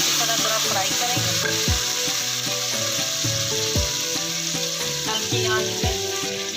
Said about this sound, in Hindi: अब इसको अच्छी तरह थोड़ा फ्राई करेंगे